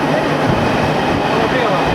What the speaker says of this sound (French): Nous avons roulé quelques kilomètres, traversé la rivière et nous voilà à Dobleïn, la première gare de Bosnie.